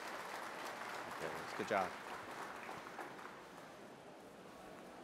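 Audience applause at an electric cooperative's annual meeting as the president and CEO comes on stage, a broad wash of clapping with a brief voice breaking through.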